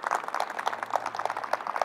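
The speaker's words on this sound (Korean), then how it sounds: "박수 부탁드립니다" Audience clapping at a taxi rest-stop completion ceremony in Yeoju, a steady patter of many hands at moderate distance, continuous through the short stretch with no talking.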